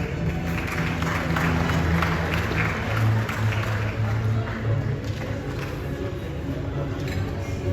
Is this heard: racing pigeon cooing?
no